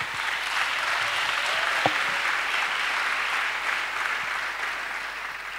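Sustained, dense applause from a large crowd at a Friday night prayer meeting in Abidjan rolls on evenly the whole time, with no break or build.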